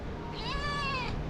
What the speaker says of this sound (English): Oh, no little kitten.